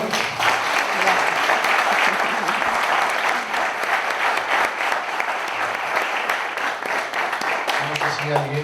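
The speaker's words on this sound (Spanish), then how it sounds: "Laura se merece un aplauso" Sustained applause from a conference audience for Laura after her talk on past-life regression, dense and even throughout with no voices on top.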